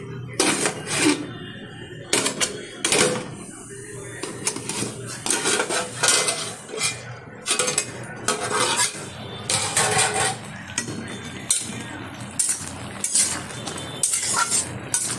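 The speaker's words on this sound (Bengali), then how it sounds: "ঢাকনাটা তুলে দিচ্ছি" A metal lid is lifted off a pot of boiling taro leaves, with sharp clinks and scrapes of metal cookware in a quick, irregular series, close and fairly loud.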